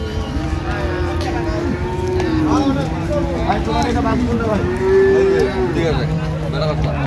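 Dairy cows and calves moo repeatedly in long, drawn-out calls, with a loud nearby low bellow near the end, over a busy background of people talking at the Ambari cattle market in Dinajpur.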